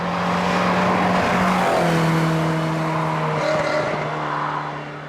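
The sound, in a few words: Ferrari 308 GTS carburettor engine intake noise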